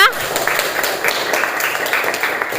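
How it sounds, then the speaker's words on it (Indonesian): Students in a classroom applaud a classmate with a short burst of loud clapping that fades quickly, with voices mixed in. "Kasih aplaus dulu untuk temannya"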